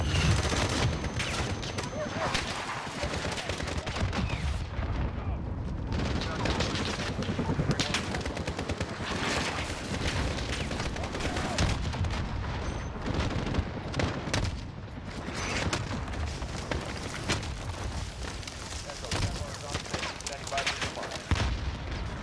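Continuous gunfire in the Call of Duty video game, with dense bursts of automatic weapons and occasional heavier booms filling the scene loudly throughout, while voices are faintly audible underneath.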